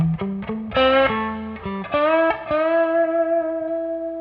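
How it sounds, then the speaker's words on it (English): An electric guitar with overdrive plays a few soft notes and chords, the last one ringing out and sustaining with a slightly gritty tone. "with the overdrive, I could get a little more dynamics. You know, I can go soft."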